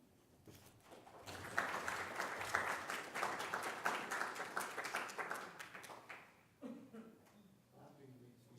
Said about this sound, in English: I really wish you guys wouldn't have clapped